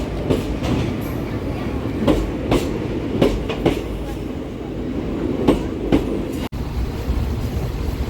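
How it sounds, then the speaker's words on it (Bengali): The Rani Shiromani Express pulls into a platform, its wheels giving a steady rumble with periodic clickety-clack knocks from rail joints, close and loud throughout, with a brief dropout near the end. "1-8-0-0-4 রানী শিরোমণি এক্সপ্রেস আসার সূচনা হয়েছে। 2 নম্বর প্ল্যাটফর্মে আসবে।"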